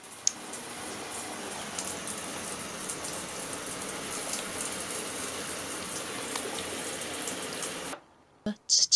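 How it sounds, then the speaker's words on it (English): Water leaking from the joint between a shower head and its hose sprays with a steady close hiss for about eight seconds, then stops abruptly, leaving a few faint clicks. "the water is leaking from the top end of the hose, between the top of the hose there and the head of the shower"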